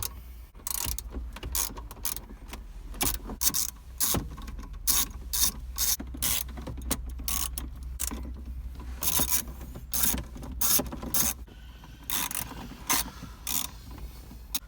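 A hand ratchet loosens the bolts holding the factory radio housing in a 2000-2007 Toyota Highlander, with rapid, close clicking bursts repeating in quick rhythm across the whole stretch.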